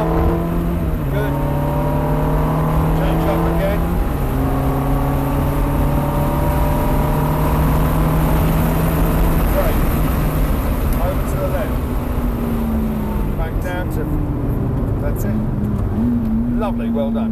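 A car engine revs up and shifts up through the gears during a driving lesson, pitch climbing then dropping at each change, loud and continuous from inside the car.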